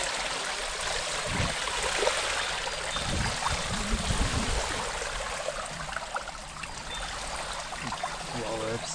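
Steady rushing flood water flows continuously in Kyiv, a broad wash of noise with faint low thumps, no speech over it.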